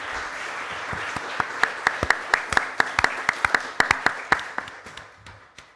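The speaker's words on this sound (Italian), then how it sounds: "A round of applause, please." An audience applauds at a prize ceremony during Venice Glass Week, a steady patter of many hands with sharp individual claps standing out, fading toward the end.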